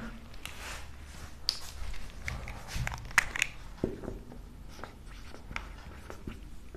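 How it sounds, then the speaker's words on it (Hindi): Chalk or marker scratches across a classroom board as a math teacher writes a divisibility rule, a faint, steady run of close scratchy strokes with a few sharper taps, no voice over it. "तो यहां पे लिख देता हूं मैं"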